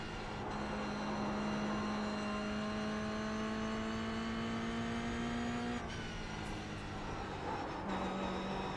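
A Toyota GR86 engine roars at full throttle around the Nordschleife in iRacing, a loud sustained drone climbing steadily in pitch before a sharp gear change drops it, then rising again.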